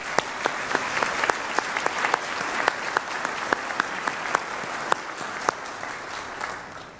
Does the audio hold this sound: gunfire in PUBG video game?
no